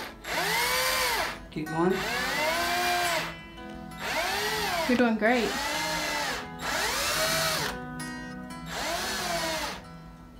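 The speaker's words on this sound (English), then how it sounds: "Hold up on your drill." A power drill runs in repeated bursts of about a second or two each, separated by short pauses, while a woman gives encouraging spoken coaching over it.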